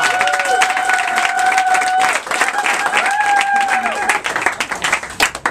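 Crowd clapping and cheering for NPSL soccer players and their coach, a busy wash of applause with a voice speaking over it, the clapping thinning into scattered claps toward the end.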